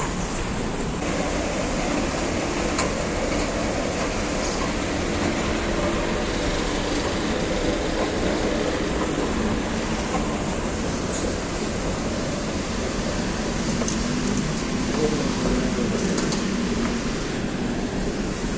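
A steady, loud rumble of a metro train in motion near Lat Krabang, Thailand, constant roaring wheel and track noise with a broad hiss throughout, no voices.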